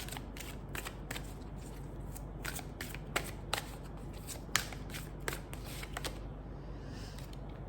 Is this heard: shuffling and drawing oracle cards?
yes